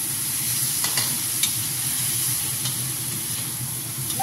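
Soy sauce added to pork sizzling in a pan, a steady loud frying hiss with occasional scraping stirs and light clinks, continuous and close with no talking.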